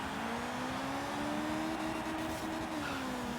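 Stock race car engine in Forza Horizon 3, built as a D-class car, droning at a steady low hum with a faint, flat tone that barely rises, like a sluggish cruise rather than a hard rev.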